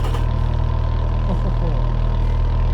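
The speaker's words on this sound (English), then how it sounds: "listen to the idle noise of the engine" A car engine idles with a low, steady, pulsing rumble, close and loud, with faint voices underneath.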